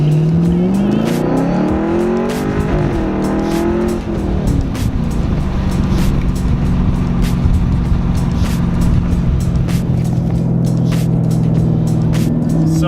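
Chevrolet Camaro 1LE exhaust from inside the car while accelerating up a long highway on-ramp, loud aggressive engine note climbing in pitch through a gear, then a steady deep drone with clicks and road noise.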